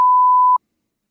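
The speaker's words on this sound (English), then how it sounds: "So we'll get that beeped out for those at home" A single loud, pure censor beep covering a spoken word lasts about half a second, then cuts to silence.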